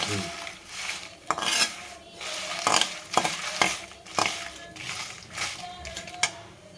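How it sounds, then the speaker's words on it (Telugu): Dried red chillies roasting in a pan with a couple of drops of oil: a soft, intermittent sizzle broken by repeated scraping and clinking of a spatula stirring against the metal pan, close by, with no talk. "మిరపకాయల్ని అందులో వేసి వేయించుకుందాం బాగా వేయించాలి ఎండమిరపకాయల్ని ఒక రెండు చుక్క నూనె వేసి"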